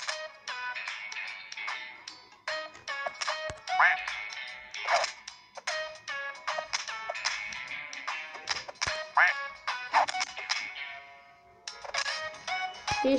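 Cartoonish duck quacks from a duck battle video game, repeated in quick bursts with short gaps throughout, bright and close with game effect sounds mixed in.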